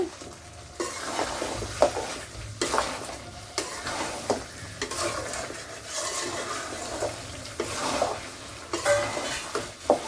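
Spiced beef with cumin paste, chilies, turmeric and chopped onion is stirred in a karai, with repeated spoon scrapes and clinks against the metal pan over a constant frying sizzle and no talking.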